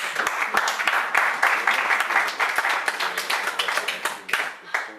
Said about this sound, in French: Acclamez dans vos mouvements.